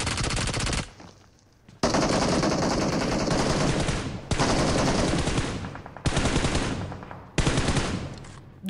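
Loud bursts of automatic gunfire in a squad shooter video game, rattling in sustained volleys broken by short pauses, with no talking.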